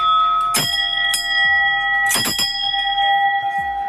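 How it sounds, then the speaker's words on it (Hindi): Hindu temple bells struck a few times, each ring leaving a long, steady shimmering hum that lingers between strikes, loud and close with no voices. "इन घंटियों की आवाज़ें आपको भी सुख पहुंचाएंगी"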